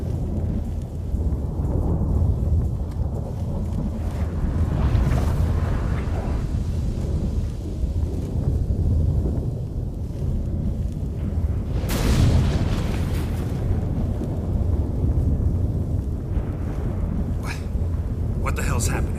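A storm in the video game The Witcher 3: Wild Hunt, with a continuous heavy rumble of wind and thunder, sharp booming cracks around the middle and near the end.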